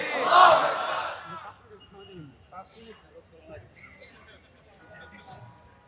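A large crowd at an Islamic sermon gathering roars a takbir in unison, a loud, brief burst at the start that quickly fades, followed by someone speaking.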